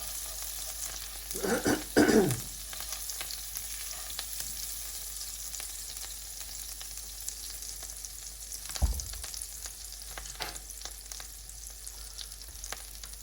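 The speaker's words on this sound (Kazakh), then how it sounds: "Майымызды толықтай еріткеннен кейін" Butter melting in a frying pan, heating up to fry slices of bread, gives a steady soft sizzle throughout. A brief louder burst of crackling comes early on and a single clatter follows later. No one speaks.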